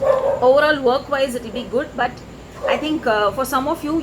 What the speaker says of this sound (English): I'm sorry about the noise of the dogs.